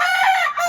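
A domestic chicken gives a single short, loud crow up close, in a backyard where pet chickens are being bathed with water.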